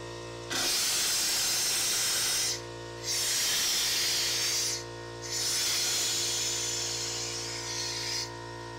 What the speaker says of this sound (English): We're gonna blow them out just to make sure that there's nothing and make sure that all the water's gone.